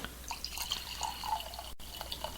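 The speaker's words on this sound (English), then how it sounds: "The pouring sound you hear is more of David's sweet sourwood mead" Sweet sourwood mead from 2013 being poured into a glass makes a soft, continuous trickle with light splashes, close and fairly quiet, with no talk.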